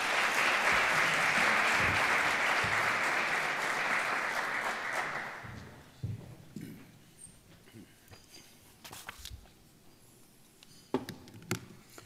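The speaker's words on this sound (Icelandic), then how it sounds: "ég vil bara biðja ykkur að klappa vel fyrir honum og bjóða velkomin í pontu" An audience claps warmly to welcome a speaker to the podium at a talk on football, betting and corruption. Dense, steady applause fills the first five seconds, then fades out into quiet room noise with a few scattered thumps.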